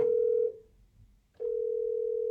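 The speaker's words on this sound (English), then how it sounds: "excuse me, my phone is ringing" A steady electronic phone tone sounds alone in two clean bursts, about half a second, then a pause and another longer stretch, clear and fairly loud in a quiet room.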